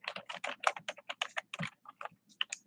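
Rapid typing on a computer keyboard, close and fairly loud, with irregular bursts of keystrokes and short pauses, no talking.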